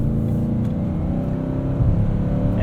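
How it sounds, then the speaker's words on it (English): Steady low V8 rumble from a 2020 Nissan Titan Pro-4X crew cab pickup while driving, a smooth, continuous engine drone with road noise at a constant level and no talking. "V8 rumble in the background"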